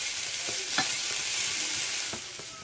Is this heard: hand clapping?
no